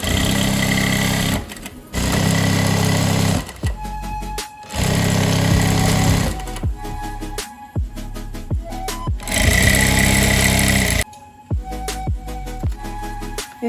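Loud, steady runs of a sewing machine hemming curtain canvas, stopping and starting between stitched sections with quiet clicks and fabric handling in the gaps.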